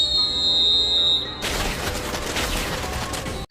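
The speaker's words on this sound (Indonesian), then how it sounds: "meniup sebuah peluit untuk menandakan adanya bahaya" A guard's whistle blown as a danger signal: one steady, loud, shrill tone held for over a second, then cut off by a burst of crashing, gunfire-like noise.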